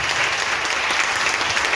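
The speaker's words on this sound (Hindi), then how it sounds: "थोड़ा और जोर से एक अच्छी ताली बजाकर यीशु के लिए धन्यवाद।" A church congregation at a pastor's Hindi-language service claps together in loud, sustained applause that stays steady and dense throughout.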